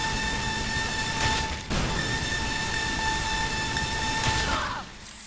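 Beam gun firing a continuous stream in the game Loadout, a steady bright hum with sustained tonal lines that holds for about four seconds, briefly cuts out once, then fades.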